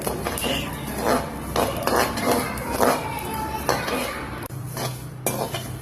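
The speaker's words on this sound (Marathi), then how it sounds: "त्याच्यात धने ऍड करायचे, जिरे पण ऍड करायचे, मेथ्या, ओवा पण छान हलवून घ्यायचंय।" A spoon scrapes and clatters in a pan, rhythmic stirring strokes tossing dry-roasting coriander, cumin, fenugreek and ajwain seeds, with a faint crackle underneath; close and fairly busy.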